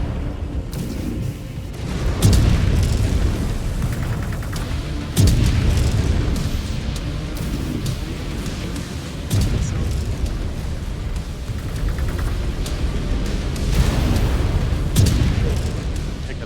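Heavy mech weapons pound a trebuchet mech in the video game Mechwarrior 5, with repeated booming blasts at roughly two to three second intervals over a constant rumbling battle din, loud and close.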